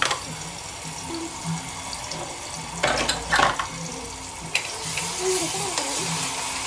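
Oil sizzles steadily in a pan with bay leaf, star anise, cinnamon, cloves and black peppercorns for a Sunday mutton curry, with a stir and clatter partway through and a running-tap hiss in the background.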